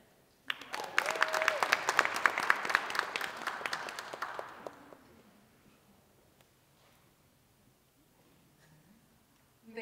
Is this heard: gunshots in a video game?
no